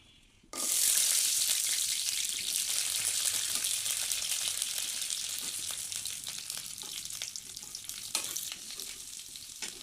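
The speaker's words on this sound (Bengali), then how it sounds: "এখন আমি এগুলোকে একটু ভেজে নেব, হালকা ভেজে নিলাম।" Ginger, almonds, black cardamom, green chili and garlic hit hot oil with a sudden loud sizzle, then keep frying in a steady, close crackle with faint stirring clicks, no voices.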